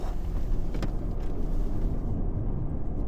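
A ZEEKR 001 FR, a four-motor electric performance car, is pushed hard into a corner on a track, giving a steady, loud broadband road and wind roar with low rumble and no engine note.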